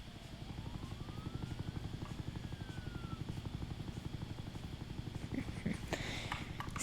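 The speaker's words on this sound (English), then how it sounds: "I got the army helicopter" An army helicopter in the Roblox game Jailbreak flies with a steady, rapid rotor chop and a continuous engine whine, with some voice in the background.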